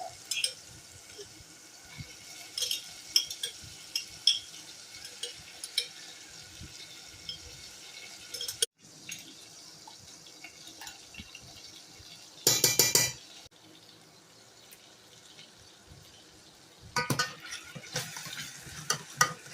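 About five tablespoons of store-bought green sofrito sizzle in a pot for Puerto Rican chicken, rice and beans. A soft, continuous sauté hiss runs throughout, broken by louder bursts of spoon stirring and scraping against the pot, with no talking.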